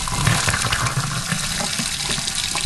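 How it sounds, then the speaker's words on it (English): Water runs steadily from a newly fitted kitchen sink mixer tap, a loud continuous splashing gush into the basin with no talk. "cold water comes out of the cold"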